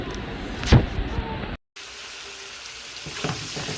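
Vegetables and meat sauté in a pan for pasta, a steady close sizzle broken by a sharp clatter and a brief cut to silence before the frying resumes, with no talk.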